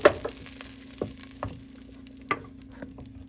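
Browned ingredients for red lentil dal sizzling steadily in a pot over heat, with a few soft stirring clacks and scrapes spread through, fairly quiet and close, no talking.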